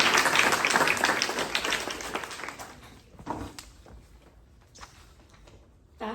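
Audience applause at a Griffin School senior project presentation, loud clapping at the start that thins out and fades to a few scattered claps and quiet room noise.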